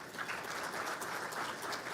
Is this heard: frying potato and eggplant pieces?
no